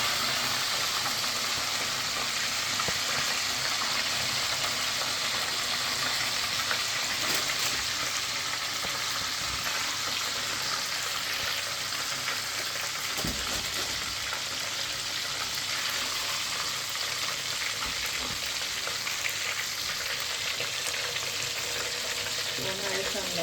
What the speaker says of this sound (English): they are frying nice and perfect